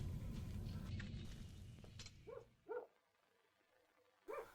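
Dogs bark at night, a few short separate barks fairly far off, following a fading low rumble, with quiet gaps between them.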